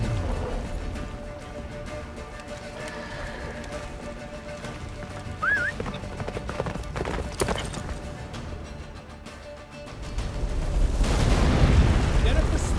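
Geralt's horse Roach galloping in The Witcher 3, with steady hoof clip-clop and a brief whinny, layered under battle noise, booming impacts and shouted dialogue before a louder rumbling surge at the end.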